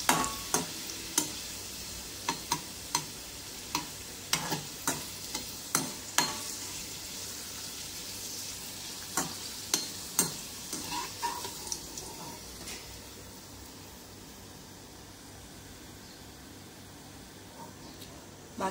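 Pappadams frying in hot oil for a spicy pappadam curry, stirred with a ladle: a steady bubbling sizzle with repeated sharp scrapes and clacks against the pan, strongest early and then thinning to a quieter hiss.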